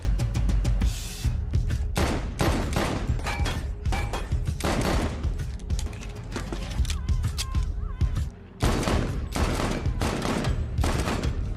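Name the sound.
gunfire using Dead Eye in video game Red Dead Redemption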